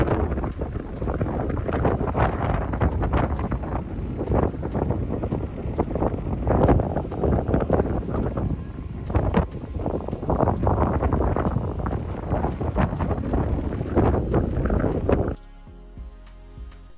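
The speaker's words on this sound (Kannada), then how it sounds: "ಎಷ್ಟು ಗಾಳಿ ಇದೆ ಅಂತ ನೋಡ್ಬೋದು, ಆ ಫಸ್ಟ್ ಲೇಯರ್ ಮರಳೆಲ್ಲ ಹಿಂಗೆ ಹೋಗ್ತಿದೆ ಅಂತ" Strong wind gusting across Atlantic City beach, blowing the top layer of sand, roars loud and steady against the microphone for about fifteen seconds, then drops away abruptly.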